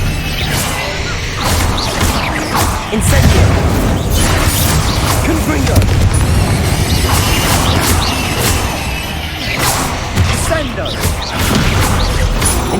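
Fire and explosion spells cast in the Hogwarts Legacy video game, a dense, loud stream of bursts, crashes and whooshing blasts that keeps going throughout, with talking over the top.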